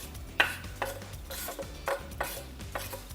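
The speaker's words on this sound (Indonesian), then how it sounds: "Ini sudah mau tercampur rata, boleh dimasukkan Mbak Iren. Kita akan masak semuanya" Fried noodles with sweet soy sauce are stirred in a pan with a utensil: repeated scraping and clinking strokes, several per second, over a soft sizzle, close and fairly loud, with no talk.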